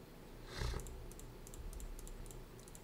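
Quiet, scattered clicks of keys on a computer keyboard as a captcha is typed, with a soft thump near the start and short bursts of tapping over a faint room hiss.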